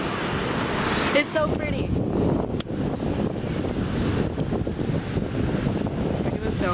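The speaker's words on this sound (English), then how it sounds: "Made it to the beach." Waves wash onto a beach as wind buffets the microphone in steady gusts, with someone speaking briefly over the surf.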